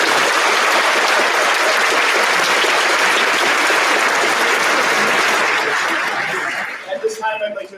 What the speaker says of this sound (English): Let's give a big round of applause to all of us